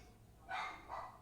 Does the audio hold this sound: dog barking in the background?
yes